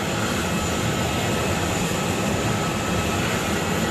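Steady broadband roar of jet aircraft at the Frankfurt cargo hub apron, a continuous engine rumble and hiss that neither rises nor fades, with no voices.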